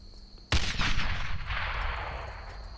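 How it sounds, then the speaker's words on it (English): A grenade blast erupts in the World War II shooter Brothers in Arms: Earned in Blood, a sudden loud boom followed by roaring, sustained gunfire and rumble that slowly fades over a few seconds. "I'm throwing a grenade!"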